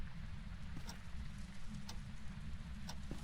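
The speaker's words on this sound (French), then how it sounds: "Et il pleut encore une fois." Rain falls steadily in the Phasmophobia video game, a soft continuous patter with scattered faint ticks of drops, heard alone at low volume.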